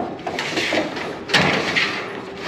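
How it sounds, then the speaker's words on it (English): A metal gate on a custom DIY build is dragged and pulled out, a harsh scraping and rattling with a louder clanking jolt midway, close and fairly loud, no talking. "Let's get this gate pulled out."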